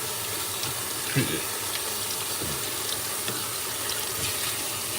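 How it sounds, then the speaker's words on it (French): Running tap water pours steadily into a kitchen sink during dishwashing, a close continuous hiss with a few soft clinks and splashes; speech is faint or absent. "Vaisselle à la job, vaisselle à la maison,"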